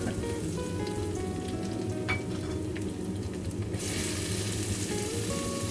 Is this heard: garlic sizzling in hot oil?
yes